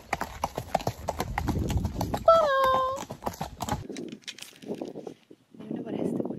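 Horses walk outdoors on a farm, their hooves making a steady clip-clop on the ground at moderate distance, with a whinny rising briefly in the middle, while people talk over most of the scene.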